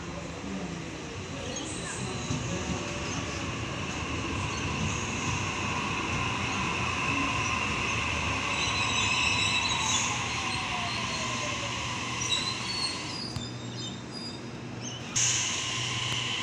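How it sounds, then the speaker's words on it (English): A Sydney suburban train rolls steadily into a station platform at Liverpool, a sustained rumble with high squealing wheels and hissing, loud and close throughout, with brief clunks near the end. "Central service arriving into platform 1"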